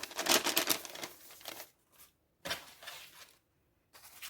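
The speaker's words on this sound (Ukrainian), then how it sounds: "Беремо наш пакет і дістаємо будь-який пакетик." A paper surprise packet holding a Labubu collectible is crinkled and opened close up in a quiet room, several short rustling bursts separated by brief silences.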